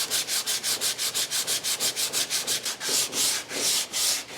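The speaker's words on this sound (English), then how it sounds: "they want us to sand it 100 to 180 followed by 220" Sandpaper scrubs back and forth over body filler on a car bumper, a loud, close, steady rhythm of rasping strokes that slows and lengthens toward the end.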